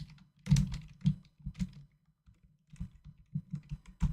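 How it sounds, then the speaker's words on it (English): Typing on a computer keyboard while writing code, a run of uneven clicky keystrokes in short bursts with brief pauses, close and fairly quiet, with no talk. "I hate typing these squiggly lines."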